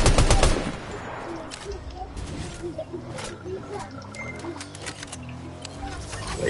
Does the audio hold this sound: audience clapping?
no